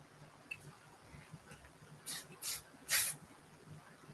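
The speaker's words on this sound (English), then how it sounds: "I'm going to use a little bit of the melting spray to do it" Three short bursts of melting spray hiss onto a lace wig at the hairline, each a quick, close spritz with brief gaps, fairly faint against a quiet room.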